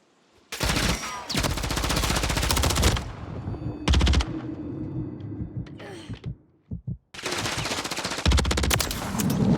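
Rapid automatic gunfire from the video game Call of Duty: Modern Warfare III, loud and close, in long sustained bursts with a short burst midway and a few scattered pops before a final long burst.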